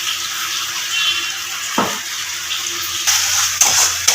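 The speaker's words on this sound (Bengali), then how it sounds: "বাটি ধোয়া জলটা পরিষ্কার করে ধুয়ে নিয়েছি এর মধ্যে ঢেলে দিয়েছি" Water used to rinse a bowl is poured into a cooking pan of spiced fish curry, giving a loud steady sizzle and rushing hiss up close, with a few splashes and clinks toward the end and no talking.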